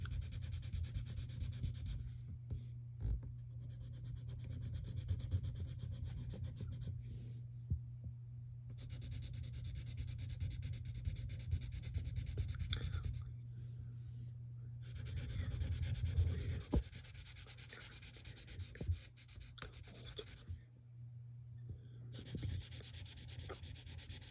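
Pencil shading on paper while drawing a cartoon monster's body, a steady soft scratchy rubbing that continues almost throughout with brief pauses, close and fairly quiet, over a constant low hum.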